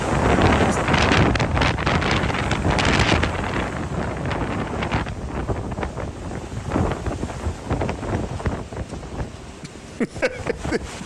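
Hurricane Milton's gusting wind and waves around a boat off Florida, with heavy wind buffeting the microphone, a steady roar that eases into choppy, irregular gusts and splashes.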